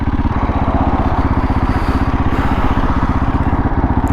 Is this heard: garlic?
no